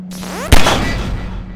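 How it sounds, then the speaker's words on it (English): A single sharp, loud firearm shot in Half-Life 2: Episode 2, fired at a device on a Strider, followed by a short decaying boom and rumble, with a faint tone before the blast. "Now, take out the firearm of your choice and shoot the device."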